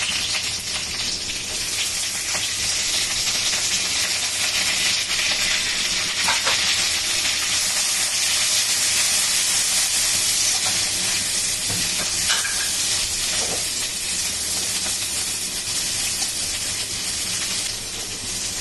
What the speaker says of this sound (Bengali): জিরাগুলো একটু ভাজা ভাজা হয়ে যাবে, আমি পেঁয়াজ দিয়ে দিচ্ছি